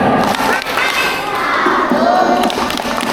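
A roomful of children at a Maulid Nabi storytelling gathering clap along to the Tepuk Anak Soleh chant, their loud, dense mix of claps and shouting voices filling the space without a break.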